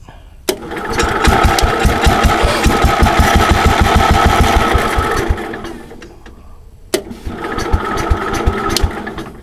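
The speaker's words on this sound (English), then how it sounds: "So we're going to crank it." A 1974 Cub Cadet 149 lawn tractor engine cranks with a fast, rhythmic chugging, cuts out, then cranks again after a sharp click, loud and close.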